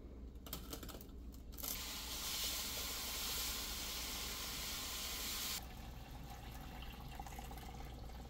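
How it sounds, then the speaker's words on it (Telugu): Hot water is poured into roasted semolina for rava kesari, bringing a sustained steamy hiss and bubbling that lasts about four seconds. Quieter clinks and scraping come before and after it. No one speaks. "ఇప్పుడు ఇందులో హాట్ వాటర్ వేసేసుకుందాం"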